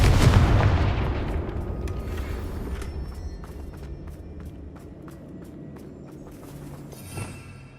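A Confringo fire spell blast in the Hogwarts Legacy video game opens with a loud, close boom that fades into a long rumbling tail, with faint footsteps and a small thud near the end.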